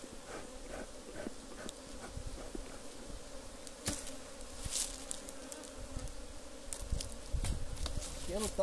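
Honeybees swarm and buzz around an opened hive in an apiary, a constant droning hum with individual bees zipping past near the microphone, and faint background noises throughout.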